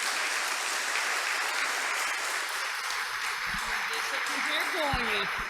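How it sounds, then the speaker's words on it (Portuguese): An audience welcomes a speaker with continuous applause, a steady wash of clapping with a few louder claps and a voice heard over it toward the end. "uma salva de palmas"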